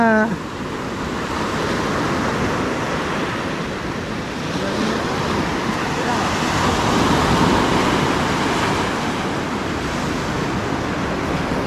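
Ocean waves surge and wash constantly in a loud, rolling roar, with wind noise pressing on the microphone throughout.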